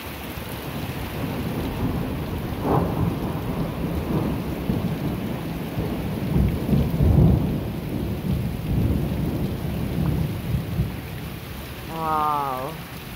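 A heavy September thunderstorm pours steady rain while rolling thunder rumbles again and again, with louder swells near and far throughout, and no voices.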